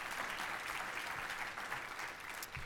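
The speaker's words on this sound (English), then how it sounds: "That deserves a round of applause." Steady audience applause fills a keynote hall at an energy efficiency conference, a dense, even wash of clapping at moderate level that holds throughout without pause.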